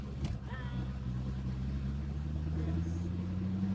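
A C6 Corvette's engine hums steadily from inside the cabin while driving, a low continuous drone that slowly rises in pitch, with people talking over it.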